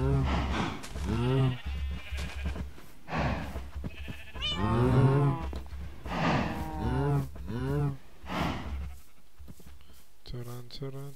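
Cows in Minecraft 1.20.4 survival mode give a string of drawn-out, wavering moos, several in a row at close range with short pauses between them.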